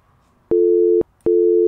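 Phone line tone in the horror game Sara Is Missing, two loud identical pure beeps, each about half a second long with a short gap between, in a busy-signal pattern.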